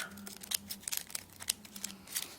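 Scissors snip through folded paper during a paper-craft lesson making a squid figure, a series of short crisp cuts close by with a faint low hum underneath.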